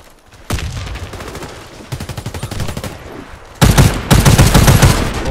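An Imbel IA2 assault rifle in Warface fires in three loud, close bursts of rapid automatic shots, each burst cracking sharply with brief pauses between them.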